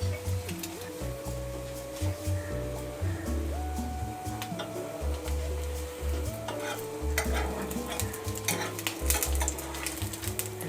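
Slices of French toast fry in a pan with a continuous soft sizzle, while occasional light scrapes and taps of a utensil sound close by.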